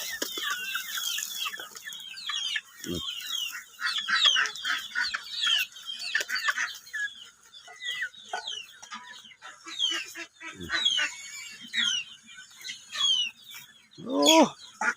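Chickens cluck and squawk continuously at feeding time outdoors in the evening, a busy overlapping chorus of clucks with occasional louder calls, close by and without clear speech.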